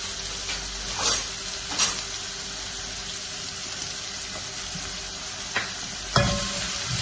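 A curry masala sautés in a pan, a steady soft sizzle underneath with several brief scraping strokes of a spoon stirring, the loudest scrape near the end; no voices.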